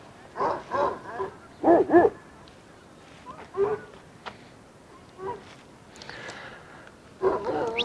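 Free-roaming guard dogs barking outdoors, with clusters of loud, close barks in short bursts, then scattered single woofs and yips with quiet gaps between them.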